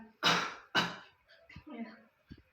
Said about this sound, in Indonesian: Tarik nafas, tahan, batukan.